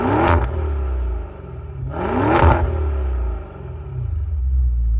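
The V8 engine of a 2024 Maserati Ghibli 334 Ultima revs hard twice, each rise and fall swelling out of a deep, loud idle rumble. The recording is close up, with no talk over it.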